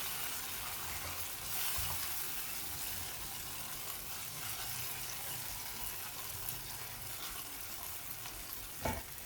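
Ground onion paste, with no water added, sizzles and fries steadily in a pan, a continuous crackling hiss with a few clinks of a utensil stirring near the end.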